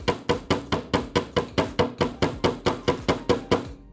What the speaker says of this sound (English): now I can take my chasing hammer right here